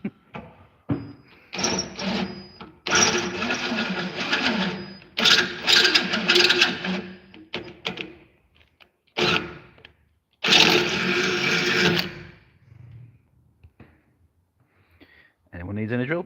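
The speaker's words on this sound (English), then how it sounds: "Anyone needs any drill bit sharpening?" A drill bit sharpening machine grinds in a restoration garage, in several loud, harsh bursts of a few seconds each with short pauses between, close by, followed by quieter knocks and handling noises.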